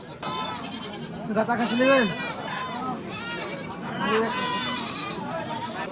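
Goats at a crowded outdoor livestock market in Charghat ahead of Qurbani, several loud wavering bleats from nearby animals overlapping one another, with market chatter in the background.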